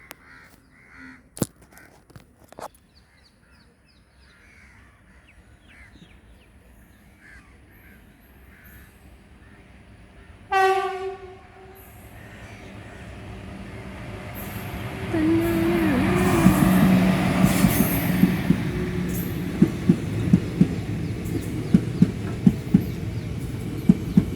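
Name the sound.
train passing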